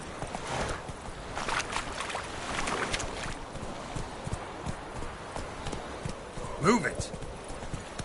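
Horse hooves clip-clopping in The Witcher 3 on PS4, rhythmic galloping with wind and a brief voice shouting a command near the end.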